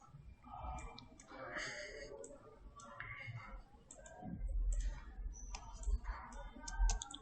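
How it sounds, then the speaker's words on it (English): Mouse clicks while working in Adobe Photoshop's healing brush tool, a scattered run of light, close clicks and ticks mixed with soft room noise and low rumbling thumps, with no speech. "I'm not using anything else. I'm just clicking, just clicking, just clicking."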